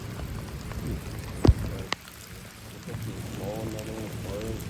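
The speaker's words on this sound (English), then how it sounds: "It's raining quite badly, and we're gonna winch this thing up." Heavy rain falls in the woods on a steep embankment during a tow truck's winch recovery of a BMW 780i, a dense steady hiss with a couple of brief knocks and a faint voice near the end.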